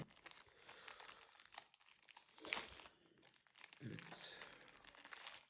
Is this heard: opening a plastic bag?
yes